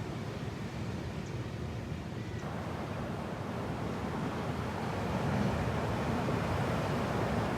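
Ocean surf at low tide washes in a steady, broadband roar with wind buffeting the microphone, swelling slightly louder in the later seconds; no voices are heard.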